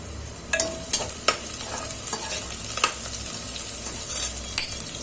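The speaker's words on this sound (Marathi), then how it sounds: "कढीपत्ता टाकायचा आहे" Curry leaves drop into hot oil for dal khichdi, giving a steady sizzle with a few sharp pops and spoon clinks against the pan.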